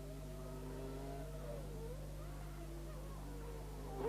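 A 1990 Formula One car lapping Estoril during Portuguese Grand Prix qualifying, its high engine note rising and falling steadily with shifting pitch, heard continuously at moderate distance with a steady low broadcast hum beneath.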